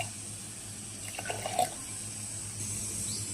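A quiet, steady stream of two glasses of water pours into a pot of mutton khichda, with a faint clink midway and a constant low hum beneath.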